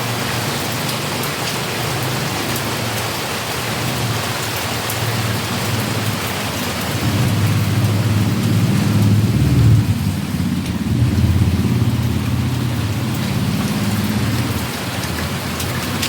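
Heavy monsoon rain pours down after days of nonstop wet weather, a thick constant roar with a deep rumbling swell that rises in the middle and then eases, and no one speaks.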